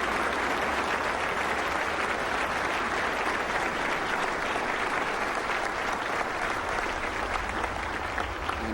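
A large Catholic crowd applauds George W. Bush, steady dense clapping filling the whole stretch at even loudness with no pauses and no voices on top.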